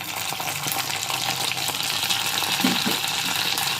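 Cashews and raisins fry in ghee in a pan, giving a dense, continuous sizzle with occasional soft stirring sounds.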